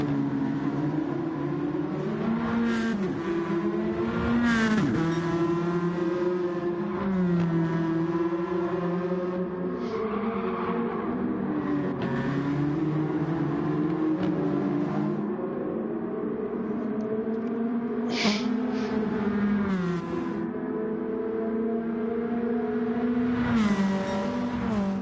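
Race cars roar off the start of a JGTC Round 1 pre-season race, a dense layered engine drone with rising and falling revs that stays loud and steady for the whole stretch.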